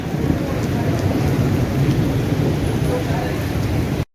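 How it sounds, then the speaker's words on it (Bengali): Heavy rain pours outside an LHB passenger coach of the Shantiniketan Express at Bolpur, a loud, dense, unbroken roar with low rumbling heard from inside the carriage, cutting off abruptly at the end. "আর বাইরে হচ্ছে বৃষ্টি জোরে"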